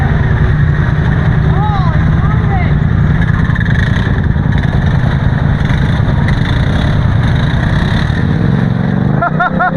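An off-road side-by-side engine drives through a deep mud hole on a trail, loud and close, steady and droning with revs, people talking over it.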